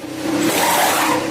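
A race car in a pit stop revs and accelerates, its engine note rising and sweeping over a brief tire squeal, loud and close throughout.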